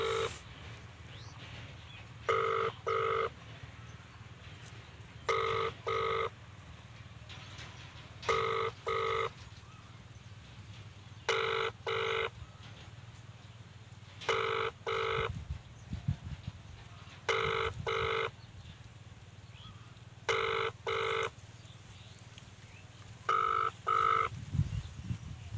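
Repeated phone ringback tone of an outgoing call that goes unanswered, with regular double-burst rings of even length spaced about three seconds apart over a low background hum and occasional faint bumps, without any talking.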